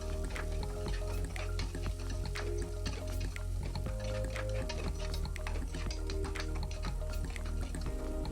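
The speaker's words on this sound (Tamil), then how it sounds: "வெங்காயம் போட்டு வதக்கிட்டு நல்லா பொன்னிறமாக வர மாதிரி வதக்கிட்டு" Onions sautéing in a pan with fennel and other tempered spices for a home-style mutton curry, giving a steady, close, continuous sizzle with frequent stirring scrapes throughout, no voices.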